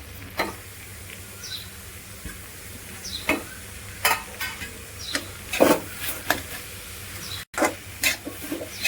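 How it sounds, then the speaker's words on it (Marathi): Paneer bhurji with spring onion and coriander being sautéed in a pan, with a steady low sizzle under a run of sharp, irregular ticks and scrapes from a spatula stirring the mixture, close and moderately loud. "चांगलं परतून घेऊया।"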